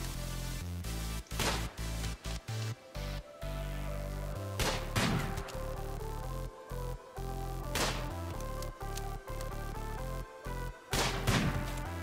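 Sniper rifle fire in the video game RimWorld, heard as several sharp, loud cracks spaced seconds apart over steady game sound, with brief gaps of near silence between passages.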